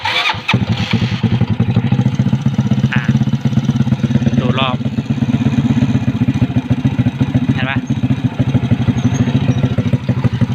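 A Demon 125 motorcycle with an air leak is started and left idling unevenly, a loud close rattling putter with wavering revs while someone talks over it.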